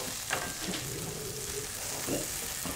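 Garlic sizzling in a pan with vegetables, a soft steady fry with a few scraping stirs, quiet and close.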